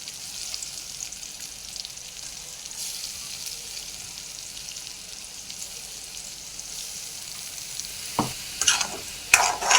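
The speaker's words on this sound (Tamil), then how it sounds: "இந்த மசாலா வந்து பச்சை வாசனை போகிற அளவு நல்லா வதக்கணும்." Ground masala paste sautéing in oil with garlic and onion for a garlic kulambu, a steady close sizzle with occasional stirring scrapes and a few sharper pops near the end, no voices.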